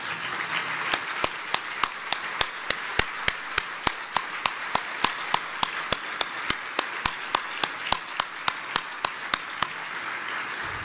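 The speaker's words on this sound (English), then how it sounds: "So I'd like Bill Ruckelshaus to stand up and get a huge applause." An audience applauds Bill Ruckelshaus at a 2011 breakfast gathering: a steady wash of crowd clapping, with sharp, evenly spaced single claps cutting through it for about ten seconds.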